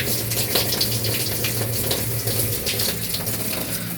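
Water gushes steadily from an opened valve into a pond tank, a loud continuous rushing and splashing flow with a low hum beneath it.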